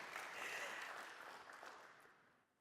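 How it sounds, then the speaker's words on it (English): An audience at a Microsoft Teams presentation claps, a quiet, fairly distant round of applause that swells briefly and then fades out. "Those claps will make my dev very happy"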